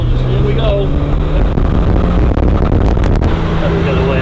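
A Triumph TR5 sports car accelerates through a corner, heard from inside. Its engine hums loudly and continuously beneath people talking.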